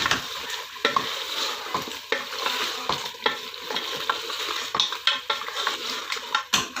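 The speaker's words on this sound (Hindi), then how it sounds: "दो मिनट इसे भूनेंगे" A coarse paste of ginger, garlic and green chili fries in a karahi with a constant sizzle, and the spoon scrapes and clanks against the metal again and again.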